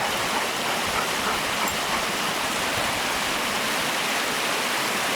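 At the base of a waterfall in Panthertown Valley, Nantahala National Forest, North Carolina, falling water makes a constant, dense rushing roar close by, with no voices.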